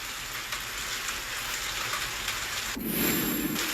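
Steady rain hisses evenly as a dense, continuous wash, then shifts abruptly near the end into a heavier, deeper rumbling downpour.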